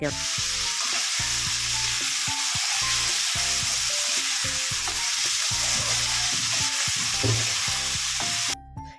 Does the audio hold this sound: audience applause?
no